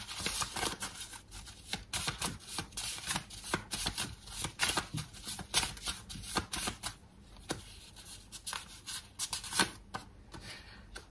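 Tarot cards shuffled by hand in a long run of rapid, crisp riffling flutters and slaps, close and fairly loud, with no voices over it.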